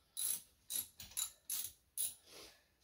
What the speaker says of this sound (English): So with a 13 mil, we'll crack the two fasteners that are holding the caliper slide pins.